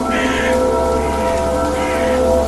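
Steady heavy rain hisses continuously, loud and close, in a forest within the Evil Nun horror video game.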